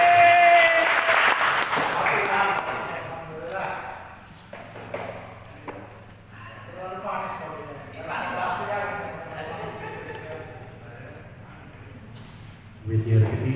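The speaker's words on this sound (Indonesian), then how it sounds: "Tepuk tangan dulu." Applause from an audience at a neighbourhood community dialogue meeting for residents of RW 012 in a housing estate, rising briefly as a burst of clapping. It then fades under ongoing talk and background voices.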